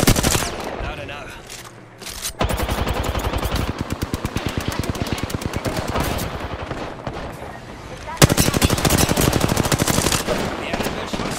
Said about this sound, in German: Werde beschossen.